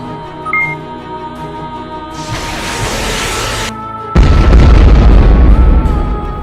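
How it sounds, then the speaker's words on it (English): Weapons fire and explosions in the Transformers: Battlegrounds video game: a sustained sci-fi hum and rushing blast, then a heavy, loud booming explosion that rumbles on to the end. "Skull Smasher, Skywarp, Thundercracker, fire everything we have! Rip that ship from the face of the universe!"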